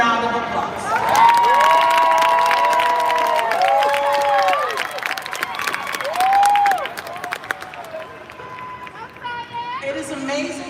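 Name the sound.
graduation audience cheering and applauding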